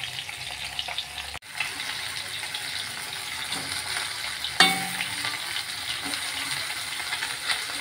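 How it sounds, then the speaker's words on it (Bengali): Fish frying in a pan for a cabbage fish kalia, giving a steady sizzle broken by a sharp break and a louder burst of spitting midway, close and with no talk. "দেখো কত সুন্দর লাল লাল করে মাছটা ভাজি করছি।"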